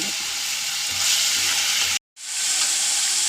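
Sardine curry masala frying in a pan with chili, coriander and turmeric powders, a dense steady sizzle with stirring, broken by a brief silent gap before the hiss resumes.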